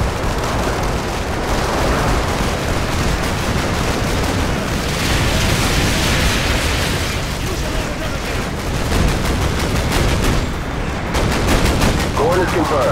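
An artillery strike in Call of Duty Modern Warfare 2 pounds on as a loud, continuous wash of blasts and gunfire, dense and close throughout with no pauses.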